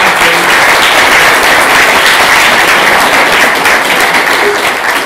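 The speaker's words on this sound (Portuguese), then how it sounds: "Vamos bater uma salva de palmas aí" Audience applause at a Python programming meetup in Brazil, a dense steady wash of many hands clapping loudly and continuously for the event organizers, with no talk over it.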